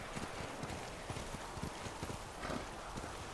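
Horse hooves gallop in a video game, a rapid, close clip-clop rhythm over a dense wash of stormy wind and weather noise.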